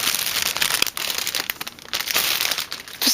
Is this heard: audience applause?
no